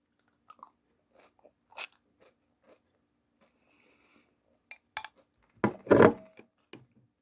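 Homemade food being eaten gives sparse, quiet bites and a few louder crunchy chews toward the end, up close in a still room, with no speech.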